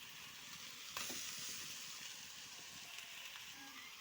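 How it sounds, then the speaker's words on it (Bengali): Sesame paste goes into radish greens frying in a pan, a steady close sizzle and hiss running throughout with a slight soft bump near the start, no talking. "তিল বাটা দিয়ে দিচ্ছি এতে।"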